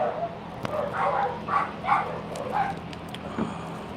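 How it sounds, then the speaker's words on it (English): A dog barks and yips in a handful of sharp bursts at moderate distance, heard behind a person speaking. "if you have dogs that bark all the time, it is annoying for your neighbors"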